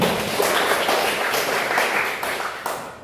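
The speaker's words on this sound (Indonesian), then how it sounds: "Berikan aplaus kepada teman kalian." Classmates in a classroom clap for a fellow student, a dense burst of steady hand claps that holds for a few seconds and tapers slightly at the end, with no talk over it.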